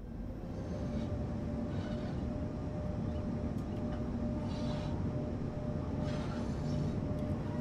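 An OBB 1116 Taurus electric locomotive on the Semmering line in Train Sim World applying power, a steady low rumble with a faint constant tone and occasional soft bursts, heard without talk.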